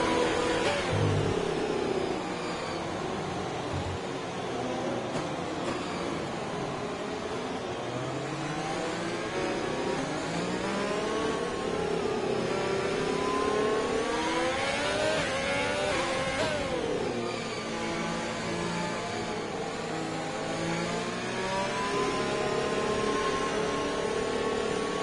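Race car engine at a practice start, droning continuously near and loud while its revs climb, dip and surge repeatedly throughout, with no voices.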